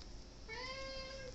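A cat meows once in a long, drawn-out call with rising harmonics, close and clear over faint room hiss, waiting to be fed at home.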